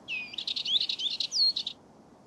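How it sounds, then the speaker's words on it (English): A Dartford warbler delivers a rapid, scratchy warbling phrase with buzzy trills, close and clear over a soft low background hiss, lasting about a second and a half. "I love the Dartford warbler's song."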